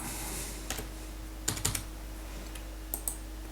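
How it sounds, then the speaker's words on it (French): Faint, sparse keystrokes on a computer keyboard, a few isolated clicks and a short cluster, over a low steady hum with no talk. "vous tapez arrow"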